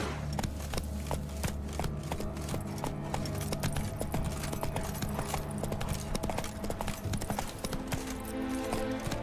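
Roach the horse trots in The Witcher 3, with a steady rhythmic clip-clop of hooves that stays close and fairly loud over game ambience.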